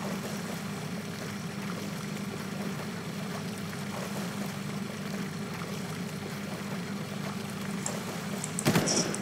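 A boat engine on water in the Far Cry game hums as a low, continuous rumble with broadband wash and splashing, steady throughout and ending in a brief louder burst.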